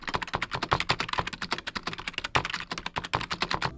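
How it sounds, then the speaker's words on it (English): Rapid, steady typing on a cheap membrane keyboard with soft, muffled key presses, close and continuous with no voices. "it just feels and sounds like a cheap membrane keyboard"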